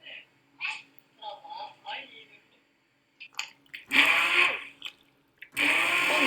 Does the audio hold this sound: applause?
no